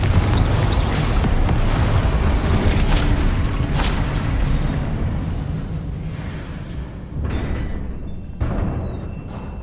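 Confringo fire spell being cast in the Hogwarts Legacy video game, a sustained roaring blast with crackling bursts and booming low rumble, loud and continuous, with fresh whooshing impacts near the end.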